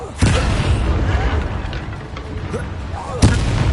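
Confringo fire-blast spell cast in a 2024 Harry Potter video game, two sharp booming bursts near the start and end over a dense, rumbling battle din.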